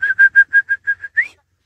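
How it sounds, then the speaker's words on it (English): A person whistles a quick run of seven short, even notes, ending in a rising slide, loud and close against silence, as used to signal oxen pulling a plough to stop. "You know, like the whistling."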